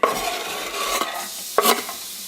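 Minced ingredients dropped into a pan of already heated oil set off a steady, close sizzle with scraping stir strokes and two sharper bursts partway through; no one talks.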